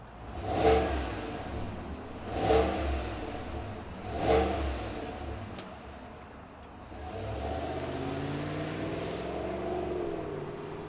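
A 2024 Chevrolet Suburban Premier's V8 engine is revved three times in quick, evenly spaced bursts through its exhaust, then settles into a steady idle rumble, close and fairly loud.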